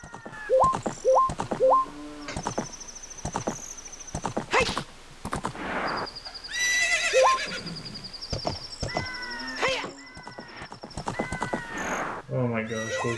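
A horse in the Gerudo region of a video game whinnies several times between thudding hoof clip-clops and game effects, while a player talks over it.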